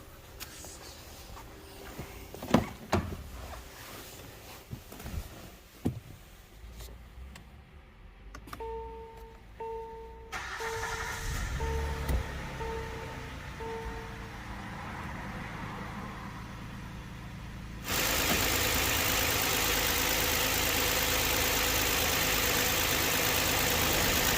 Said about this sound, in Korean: 조립이 다 됐습니다 시동 먼저